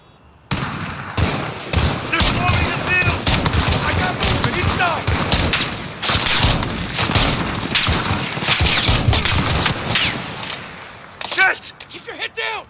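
Dense, sustained automatic gunfire and rapid volleys fill a realistic military video game battle, loud and close, with shouted voices of soldiers calling out among the shots.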